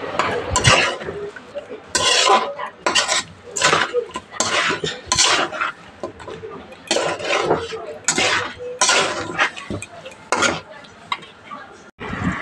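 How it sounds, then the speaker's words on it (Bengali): Chicken being stir-fried in a pot over a low-to-medium gas flame for vindaloo, with repeated loud scraping and clanking of a spatula against the pot in steady bursts, close up and with no talking. "এখানে গ্যাসটি লো থেকে মিডিয়ামে রেখে আবারও চিকেনটি খুব ভালো করে কষিয়ে রান্না করে নিতে হবে।"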